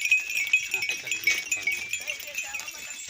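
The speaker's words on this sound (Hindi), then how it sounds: "ये छोटी बकरी" Goats in a village herd bleat repeatedly at close to moderate range, mixed with other animal calls and a steady hiss of outdoor background noise.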